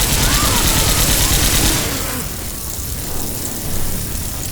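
Gunfire in the video game Left 4 Dead 2 comes as a dense, loud burst of rapid shots. It then thins to scattered shots under a noisy game background.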